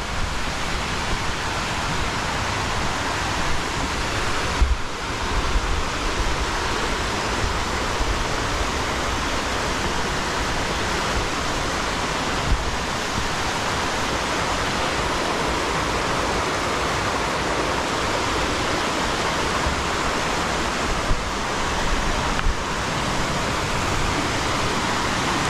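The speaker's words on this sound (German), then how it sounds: "da ist ja der richtige Wasserfall." A steady, full roar of a waterfall in France rushes continuously at close range, loud and unbroken throughout.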